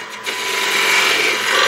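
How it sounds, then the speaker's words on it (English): A parting tool scrapes and cuts steadily into a punky wood blank turning on a lathe, a loud, continuous hissing rasp close by with no voices. "Then we can go in with our parting tool."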